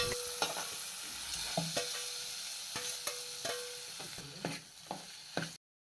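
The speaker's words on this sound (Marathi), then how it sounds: "मस्त मसाला परतून घेतलाय आणि त्याच्यात हे धुतलेले कोके टाकतायत." Washed kokke tossed into coconut masala frying in a pan, with repeated sharp scrapes and stirs of a spatula over a steady close sizzle, the stirring strokes coming in an irregular rhythm before stopping.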